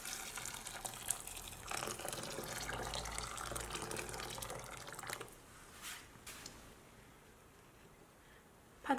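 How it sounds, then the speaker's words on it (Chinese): Boiling water is poured from a kettle over peanuts in a bowl, a steady close splashing and gurgling stream for about five seconds, then a few faint drips and clinks in a quiet kitchen. "再放一个大一点的碗中，再用开水浸泡5分钟。"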